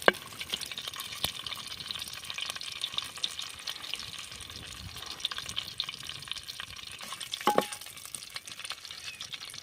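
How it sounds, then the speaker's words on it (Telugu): Bay leaf, cloves and cinnamon crackle and sizzle in hot oil on an outdoor cooking fire in farm fields, a steady close frying hiss with scattered pops and one sharper clatter near the end; no talking. "బిర్యానీ ఆకు లవంగం పట్ట వేసుకుంటున్నాం. నూనె బాగా హీట్ అయినట్టుంది."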